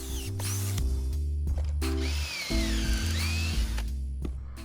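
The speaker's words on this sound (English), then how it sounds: "I used a pocket hole jig to drill 6 holes on one of the 2x4s" Drill bit boring pocket holes through a 2x4 in a pocket hole jig for a cedar raised garden bed, several loud close bursts of high motor whine with brief pauses between.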